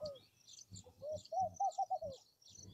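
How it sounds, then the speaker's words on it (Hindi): Small birds chirp and tweet in farm fields in the early morning, a cluster of quick, clear calls close by with soft rustling underneath. "चिड़ियों की आवाज़ें आती हैं।"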